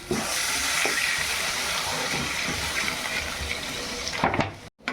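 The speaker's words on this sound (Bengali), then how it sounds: "এই যে এবার জল দিয়ে দেবো।" Water is poured into a pan of hot oil and spices for a fish curry, a loud continuous rushing splash and hiss that cuts off near the end.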